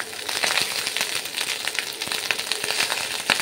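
Ghee hits soft-scrambling eggs in a pan for Chinese fried rice made with leftover rice, a close, steady crackling sizzle with dense little pops throughout.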